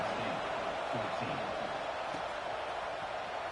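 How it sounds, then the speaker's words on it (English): A stadium crowd in a football video game keeps up a dense, steady roar throughout, with a commentator talking over it. "this crowd is buzzing after that last score"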